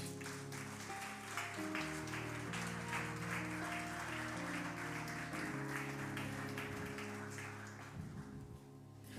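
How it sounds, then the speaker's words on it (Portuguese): Standing congregation at a church service applauds Jesus, a continuous wash of clapping over sustained music tones, moderately quiet and carrying through the room, easing off toward the end. "Em nome de Jesus, aplauda Jesus"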